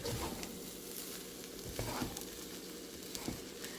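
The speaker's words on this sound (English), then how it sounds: "all you're really doing is heating up the rice, mixing everything together" Rice and chicken stir fry sizzles softly in a pan while being mixed together, a steady low hiss broken by faint scraping clicks of stirring.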